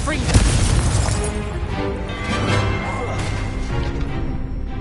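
In Hogwarts Legacy, a Confringo spell sets off booming explosive blasts, a few heavy bursts landing among game noise while a voice speaks throughout.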